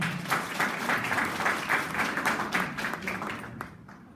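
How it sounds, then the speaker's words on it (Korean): An audience applauds to welcome a speaker at a talk, a brisk dense round of clapping that tapers off near the end. "박수로 환영해 주세요"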